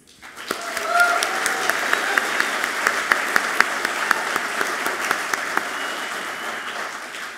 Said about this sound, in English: how about a warm round of applause for our newest life member